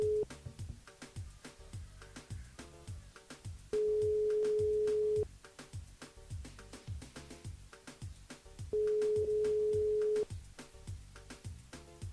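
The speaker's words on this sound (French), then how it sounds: "ça c'est un sonnerie, ça c'est un répondeur" A telephone ringing: two long, steady electronic tones a few seconds apart, heard over a busy background of music and noise.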